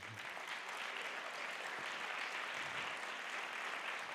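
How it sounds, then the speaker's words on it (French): Sustained applause from a crowd, dense and even throughout, at a moderate distance with no voices standing out. "Donc Karine, on peut l'applaudir à nouveau."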